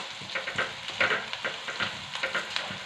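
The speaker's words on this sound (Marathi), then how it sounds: "असे छानसे असे डाग पडेपर्यंत आहे ना आपल्याला अशा मिरच्या भाजून घ्यायच्या आहेत" Green chillies roast in a hot pan until blistered, for a boiled lemon-chilli pickle, giving a close crackling sizzle with quick irregular stirring scrapes and small pops, no talk.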